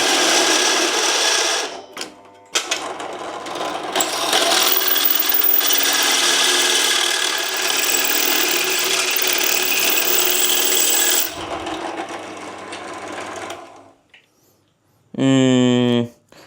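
A Dtech 13 mm 450 W bench drill press bores through a workpiece with a steady, loud grinding whir for about eleven seconds. The tone then drops away, followed by a short separate burst of machine noise near the end.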